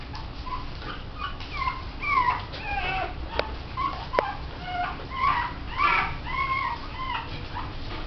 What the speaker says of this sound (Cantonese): 狗 BB。